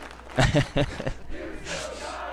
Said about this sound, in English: you can hear the crowd now chanting, "You still got it."